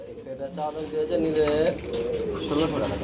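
Magpie Danish pigeons at a busy pigeon market coo close by in loud, repeated rolling calls, mixed with market chatter and voices talking.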